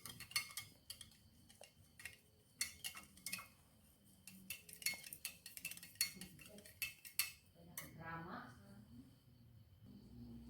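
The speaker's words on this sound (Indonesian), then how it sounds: "Aduk hingga rata." A spoon stirs yeast, sugar and warm water in a glass, giving a series of sharp clinks and taps that come irregularly and grow faint near the end, with a voice speaking in the background.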